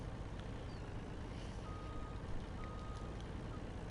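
A farm truck at a potato harvest backs up with a faint, steady reversing beep over a rumbling engine and broad wind-like noise, distant and quiet throughout.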